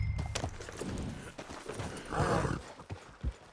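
Horse hooves walking in Red Dead Redemption 2, a steady run of soft clip-clop thuds close by, mixed with in-game ambience and a brief whoosh partway through.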